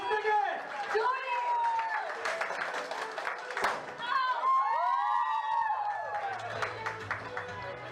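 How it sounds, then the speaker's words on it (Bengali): An audience at a radio station's anniversary magazine launch breaks into scattered clapping mixed with voices, while a person speaks prominently over the applause. "সবাই করতালি দিব"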